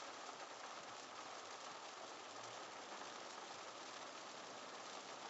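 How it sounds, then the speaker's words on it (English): Heavy rain pours down during a thunderstorm on a Kansas City road, Missouri 152 at Ambassador Road, a steady, dense broadband hiss that stays loud and even throughout with no voices. "pretty good downpour."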